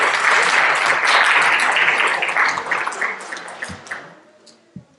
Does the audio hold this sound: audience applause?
yes